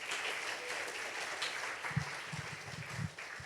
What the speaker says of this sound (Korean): 들어가실 때까지 큰 박수로 환영해 주세요